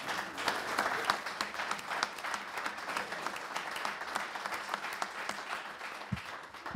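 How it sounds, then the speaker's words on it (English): A town council audience applauds firefighters marking long service milestones, including 25 years with the fire department; steady clapping from a room of people fills the whole stretch at moderate level. "So if we could give them a round of applause"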